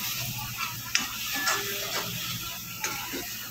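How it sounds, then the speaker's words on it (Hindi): Spice masala cooking in a pan for a spinach sakoda dish, a close steady sizzle with occasional ticks and scrapes of a stirring spoon. "अभी हम मसाला डाले हैं इसमें, ये मसाला हमारा पक रहा है।"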